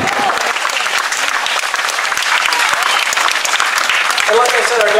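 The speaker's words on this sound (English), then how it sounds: "Give her a round of applause." An outdoor crowd gives loud, sustained applause after a K9 police dog demonstration, dense clapping throughout, with a voice coming in under it near the end.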